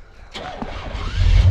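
A car engine cranks and catches, rising into a loud low rumble after a few seconds of stalling, close by and without speech.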